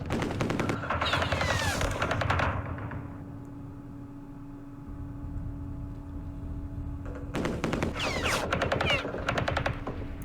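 23mm anti-aircraft guns firing in a Vietnam war video game, two loud sustained bursts of rapid fire at the start and end with a humming lull between.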